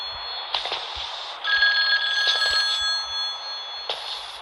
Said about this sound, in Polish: Telefon gdzieś dzwoni.